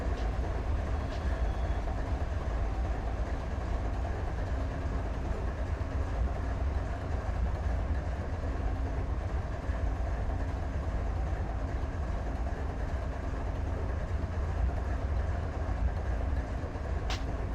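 A BNSF train rolls steadily past in a train simulator game, a continuous dense rumble and rattle of wagons holding at an even level throughout, with no pauses.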